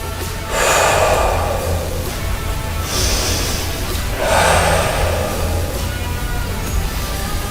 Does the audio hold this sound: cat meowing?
no